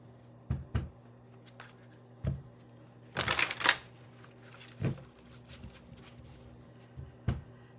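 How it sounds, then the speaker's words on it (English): Brief riffling bursts of cards being shuffled, with a longer flurry in the middle and scattered soft taps and slaps, in a quiet room. "Sorry to make you watch me shuffle"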